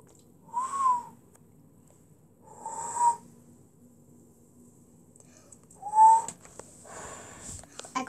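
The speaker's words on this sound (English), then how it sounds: "Whistle." Three short whistled notes, each a quick sliding tone, separated by pauses, fairly quiet and close with light background noise.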